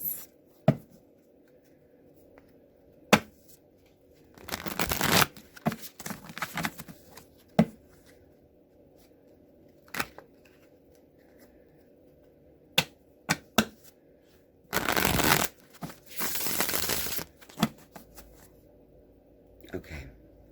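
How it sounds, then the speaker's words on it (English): Two longer flurries of tarot card shuffling at a psychic reading, nearby papery rustles broken up by sharp taps and clicks of cards against a tabletop in an otherwise quiet room. "2 more shuffles."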